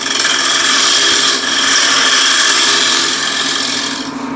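A 12 mm spindle gouge scrapes and cuts wood spinning on a lathe, a loud, steady rasping hiss that dips briefly partway through and fades at the end.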